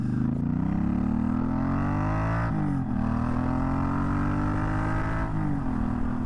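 Suzuki Boulevard M50 cruiser motorcycle engine revs up high, a loud, steady low-pitched drone that climbs and dips through several throttle changes with no talking.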